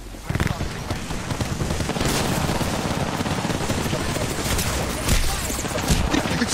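Video game gunfire, loud and almost unbroken: rapid automatic bursts and overlapping shots with occasional heavier booms, while players talk over the clatter.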